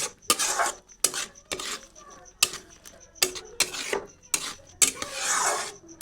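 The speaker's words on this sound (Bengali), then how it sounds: "তো এরপরে সব কিছু ভালো করে মিশিয়ে নিচ্ছি" A spoon scrapes and stirs tomato chutney with lemon juice and ground roasted five-spice in a pan, about a dozen rasping strokes in an uneven rhythm, close and fairly loud.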